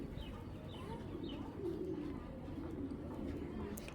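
Black racer racing pigeons coo in soft, low, rolling bursts, close and continuous through a room murmur, with someone talking faintly in the background.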